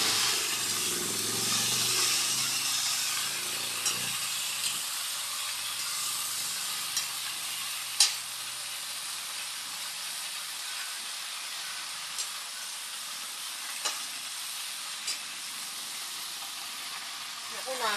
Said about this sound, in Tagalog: Magluluto tayo ng adobong kangkong.